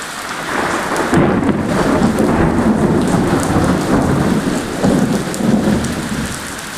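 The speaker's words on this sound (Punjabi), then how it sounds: "ਮੀਂਹ ਪੈਂਦਾ ਬਾਹਰ ਬਿਜਲੀ ਕੜਕਦੀ ਐ" Heavy rain pours down outside during a thunderstorm, a dense continuous hiss with low rolling thunder rumbling underneath, loud and steady without talk.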